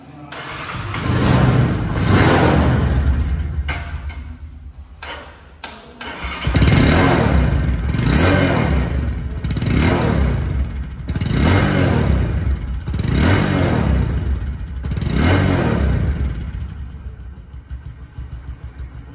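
A Bajaj Discover 125cc motorcycle engine revs repeatedly, rising and falling in regular bursts after a brief pause, loud and close.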